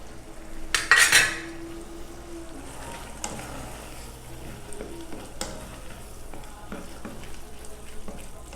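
Rice being cooked with salt cod in a pan, with a sharp clatter of a utensil against cookware near the start, then a steady low sizzle and occasional light scraping and taps.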